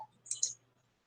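A single soft computer mouse click, faint and brief, in a quiet room with no talking.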